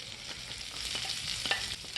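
Steamed carrot and broccoli pieces hit a pan with frying onion and green chilli, producing a steady close sizzle with stirring scrapes and small knocks, no voices.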